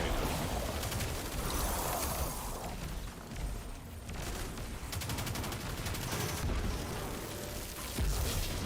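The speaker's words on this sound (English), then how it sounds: "There, have a grenade." Combat in the game Destiny 2 with a grenade detonation amid sustained gunfire, a dense, continuous barrage of shots and booms running loud throughout with no break.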